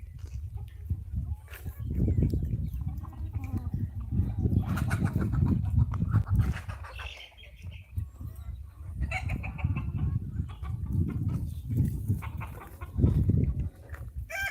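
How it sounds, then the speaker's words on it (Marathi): Free-range desi chickens forage on a village poultry farm, clucking and calling in scattered bursts at a moderate distance, with a few brief human sounds in the background. "ह्या कोंबड्या दिवसभर इकडे चरत असतात"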